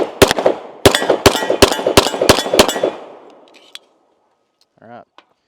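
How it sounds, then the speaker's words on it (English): Nine sharp pistol shots from an Atlas Titan RDS crack out on an outdoor range in an uneven rapid string, each ringing into a reverberant decay, followed by quiet and a faint brief voice near the end. "Let's go ahead and take some more shots with it."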